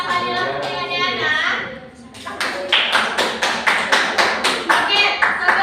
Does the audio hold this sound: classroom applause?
yes